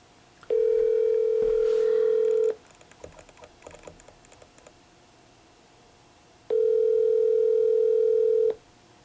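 Outgoing phone call ringback: two long steady tones roughly two seconds each, separated by a gap with faint clicking, fairly loud and clear with no talking.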